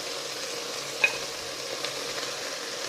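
Chopped onion and carrot sauté quietly in a pan for a chicken and mushroom rice pilaf, giving a soft, even sizzle with one small clink of a utensil and faint stirring scrapes.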